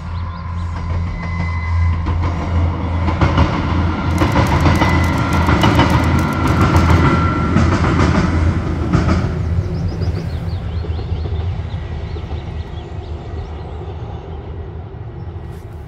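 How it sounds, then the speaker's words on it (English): A Class 158 diesel multiple unit crosses the Invershin Viaduct on the far north line in Scotland, passing close by as a loud, steady rumble with a rail roar that fades slightly toward the end, and no talk. "Staying on the far north line at the stunning location of the Invershin Viaduct, we see 158706 crossing with 2H63"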